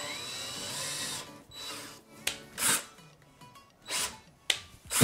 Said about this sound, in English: So let's go ahead and drill these out.